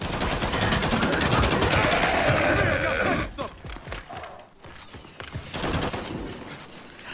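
Rapid gunfire in the video game Gears 5, dense bursts of shots for about three seconds, then quieter scattered bursts, with a player talking over the action.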